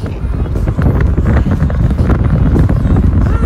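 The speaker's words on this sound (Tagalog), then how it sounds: "Sarap ng simoy ng hangin." Wind buffets the microphone in a steady, low, rumbling roar at People's Park in Tagaytay, with a faint voice now and then underneath.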